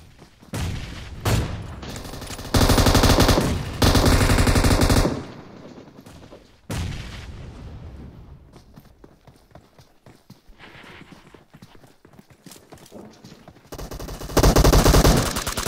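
Loud bursts of automatic gunfire from the mobile shooter PUBG Mobile, several sustained volleys with short gaps between them, crackling close and heavy over a background of game ambience.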